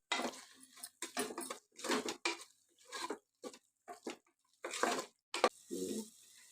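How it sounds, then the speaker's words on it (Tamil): Water poured into a pan of sautéed tomato masala before adding rice for Karnataka hotel-style tomato bath, heard as a series of close splashing, gushing bursts with short pauses. "இதில் தண்ணி ஊற்றி அரிசி போட்டுடலாம்"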